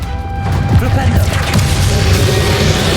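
Spell-casting effects from a Hogwarts Legacy final boss fight: a dense, continuous wash of magical whooshes and crashing impacts, with a few sharper hits standing out, loud throughout.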